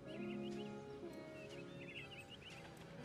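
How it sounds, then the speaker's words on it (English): Birds chirp in the Psychonauts video game, with short warbling calls repeating over a steady, busy background ambience. "That's a bird."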